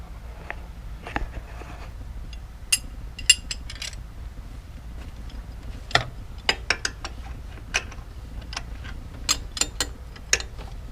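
A 15mm ratchet wrench being worked on a Ford Taurus during a coolant leak repair gives sparse, irregular clicks and ticks over a low hum, with small metallic bursts scattered through the stretch.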